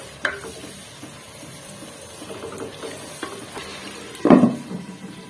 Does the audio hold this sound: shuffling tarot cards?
no